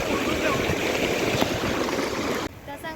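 Sea waves wash in on the shore at Kanyakumari as a steady broad rushing hiss of surf, then cut off abruptly near the end.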